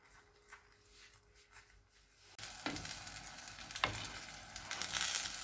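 Chicken cheese paratha cooks in oil on a pan: a quiet stretch with faint clicks gives way to a sudden loud, dense sizzle with occasional sharp knocks, and no one speaks.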